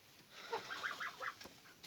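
Soft clucking from chickens in a coop, several short calls in quick succession, quiet and slightly distant.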